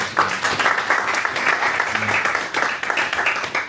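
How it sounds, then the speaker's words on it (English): Audience applause at the inauguration of a Sierra Leone diaspora advisory committee in Brussels, a dense steady round of clapping from a crowd throughout, with some faint voices mixed in. "Please, let's give these guys a round of applause."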